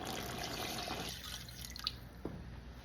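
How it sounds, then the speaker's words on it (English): Water pours into a pot of Cambodian beef lemongrass stew with a bubbling rush for about a second, then trails off into a few scattered drips, close and moderately loud. "And then we're gonna add in our water."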